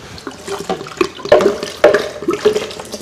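Water pours steadily into a container holding 1.5 cups of nut cheese, a continuous splashing, gurgling flow heard up close with no talk.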